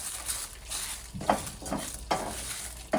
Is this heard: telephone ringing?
no